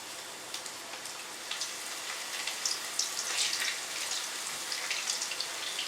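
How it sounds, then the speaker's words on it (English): Beef browning a little at a time in hot oil for a Thai peanut sauce dish, a soft continuous crackling sizzle with scattered pops, fairly quiet and steady throughout. "Let it swim around in our oil."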